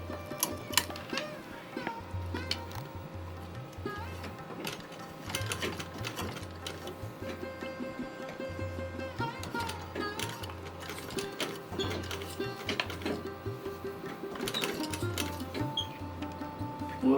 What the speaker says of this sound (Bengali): আমি প্রথমে আগে সেলাইটা করে নিচ্ছি